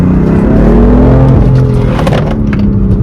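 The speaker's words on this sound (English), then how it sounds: "a little bit of a review on the secondary cat delete on the F80 M3" A BMW F80 M3 with its secondary catalytic converters deleted rumbles loud and close, its exhaust holding a deep, steady drone with slight throttle swells and a few sharp crackles.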